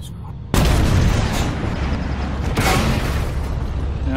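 Tank cannon fire in a video game, with a sharp loud blast kicking in about half a second in and a second heavy shot near two and a half seconds, each followed by a long rumbling tail.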